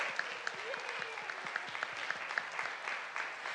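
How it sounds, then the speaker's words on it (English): Scattered applause at a city council meeting, a small crowd clapping steadily for a few seconds with a couple of faint voices underneath. "we should clap for Waylon now"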